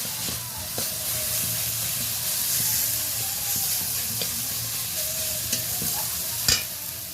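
Spice paste sizzling and frying in a hot pan with fried green chillies, a steady hiss with stirring scrapes and occasional pops, close and continuous with no talking.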